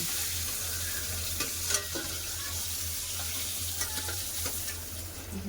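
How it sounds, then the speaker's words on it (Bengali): Dense, even sizzle of fish frying in a wok, with occasional utensil taps and scrapes breaking through the continuous crackle of hot oil. "কত সুন্দর মাছ ভাজাছে"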